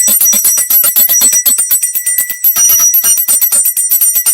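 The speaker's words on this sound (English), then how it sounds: "I light a candle and I ring the bells." Bells are rung in a rapid, steady series of bright metallic strikes with ringing overtones, loud and close with no talk over them.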